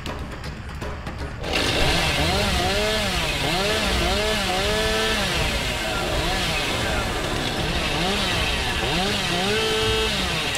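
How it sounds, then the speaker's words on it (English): Revving chainsaw held by the killer in the video game Dead by Daylight, a steady loud buzzing drone with wavering pitch that runs continuously after a quiet opening second, mixed with game ambience. "I move slow with the chainsaw out, it feels like."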